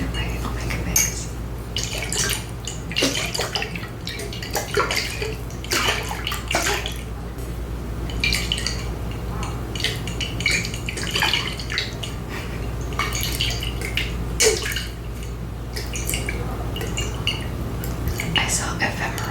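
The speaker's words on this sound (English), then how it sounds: "shaking a pickle jar full of water" A pickle jar full of water is shaken close up, making continuous sloshing and splashing with faint glassy knocks, steady and fairly loud for almost twenty seconds.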